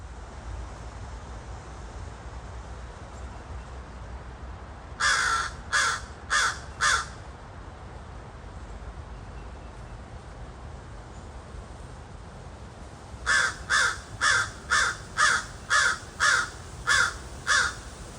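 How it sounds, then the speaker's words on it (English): Crows perched overhead caw from a short distance during an outdoor nature walk: a burst of four calls, a pause, then a longer run of about nine evenly spaced caws over a steady wind hiss. "Crows are very mystical birds."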